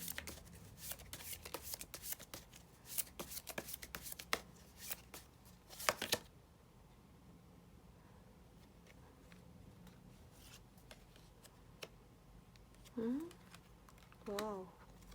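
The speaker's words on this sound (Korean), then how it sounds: "조언 카드 뽑아보도록 하겠습니다." Tarot cards shuffled by hand in fast riffling bursts for about six seconds, then quiet room tone with a couple of brief taps and slides near the end.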